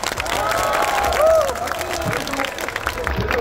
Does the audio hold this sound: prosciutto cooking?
no